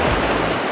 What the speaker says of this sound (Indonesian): ombaknya di sini lumayan mantap